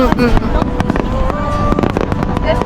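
Fireworks at a Japanese fireworks festival burst in rapid crackling pops and sharp bangs over a continuous rumble, while people talk nearby.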